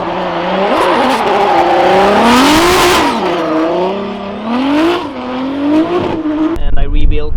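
An Audi RS5 drift car with a rebuilt R32 VR6-based 3-liter engine revs hard nearby, its pitch rising and falling through repeated throttle blips amid tire squeal, loud and continuous.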